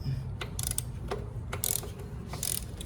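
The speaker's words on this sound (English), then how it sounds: "We got a 12 millimeter right on that little bolt right here. Loosen this on up." Ratchet wrench working a 12 mm bolt on a 2000 Toyota Corolla during an alternator replacement, giving several quick bursts of metallic clicking separated by short pauses, close and moderately loud, with no voices.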